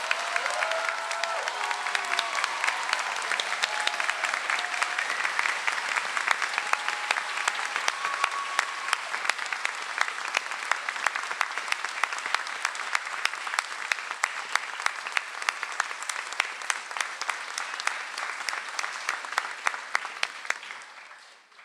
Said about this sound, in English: please join me in giving a final round of applause in recognition of the excellent work of our Dean's List students